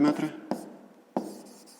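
A pen writes an answer to a fifth-grade cube problem by hand, with a few brief scratchy strokes separated by short pauses, close and quiet.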